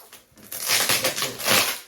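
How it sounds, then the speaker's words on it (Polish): A taped parcel being torn open gives off a short burst of crinkling and crushing, with close, loud ripping and rustling for under two seconds. "zabieramy się za otwieranie paczki"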